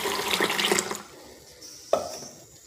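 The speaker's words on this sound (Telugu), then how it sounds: "వీటిలో వాటర్ పోసి నానబెడతాను" Water pours from a tap onto washed black gram set to soak, a loud splashing rush for about a second, then a quieter trickle and one brief splash.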